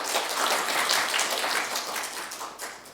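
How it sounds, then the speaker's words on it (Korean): A church congregation applauds to welcome a newcomer. The clapping is soft, dense and rain-like, stays fairly even throughout, and fades slightly toward the end. "박수로 한번 환영하십시오."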